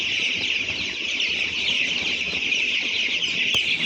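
Poultry chicks in a farm shed at midnight, with rain falling outside, chirp densely and continuously in a shrill chorus, fairly near, broken by one brief knock near the end.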